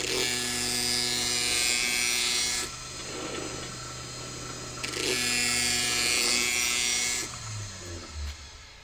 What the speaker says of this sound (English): I should try the fine wheel and vary the RPM to see if I can use a fine wheel with the low end stainless blades.